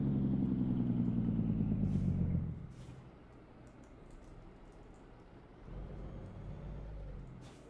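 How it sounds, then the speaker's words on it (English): A heavy truck's engine braking in American Truck Simulator gives a loud, steady low rumble for over two seconds, then drops away to a quieter road drone before a softer rumble returns near the end. "Bit of engine braking there."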